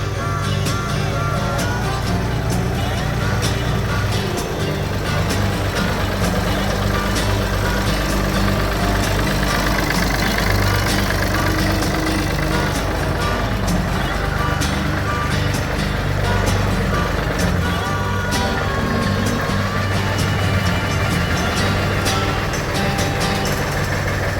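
A David Brown 880 tractor with an oil leak at a seal drives back and parks. Its loud diesel engine runs close by with a steady, unbroken low rumble the whole time.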